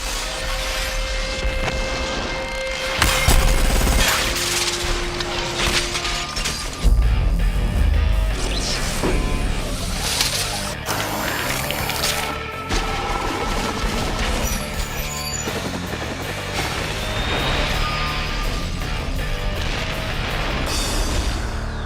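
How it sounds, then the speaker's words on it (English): Glass shatters and explodes in a film special effect, rigged to burst outward in an expanding circle, with repeated sharp crashes and bursts of debris across a loud, dense stretch and heavy impacts near three and seven seconds. "We wanted the glass to explode in sort of an ever-expanding circle"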